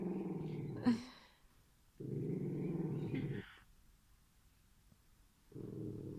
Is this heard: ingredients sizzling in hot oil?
no